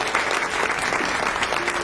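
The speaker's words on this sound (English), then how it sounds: "Let's give her a round of applause." An audience breaks into steady, dense applause at a competition, the clapping continuous and fairly loud throughout with no pauses.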